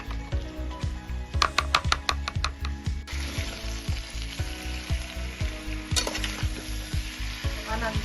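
Spice paste of chilli powder and ginger paste frying in a pan for a labra vegetable dish, a steady close sizzle with stirring and scraping strokes, including a quick burst of clattering strikes early on, with no talk.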